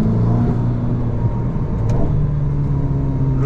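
A Ferrari engine droning at steady high revs, a loud, close, continuous tonal growl with a faint click partway through and no voices.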